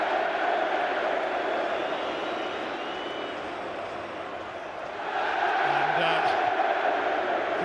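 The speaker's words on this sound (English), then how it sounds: "the cheer from the Newcastle fans is because Alan Shearer's image is also on the big screen inside the stadium" Newcastle United fans in the stadium at a League Cup final against Liverpool send up a broad, steady crowd roar that swells louder partway through, with a commentator talking over it.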